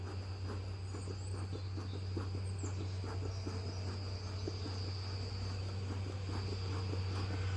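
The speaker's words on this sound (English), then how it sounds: "we have got so many bees in here now." Dense insect buzzing fills the clip continuously, a steady close hum with a low drone underneath and no talking.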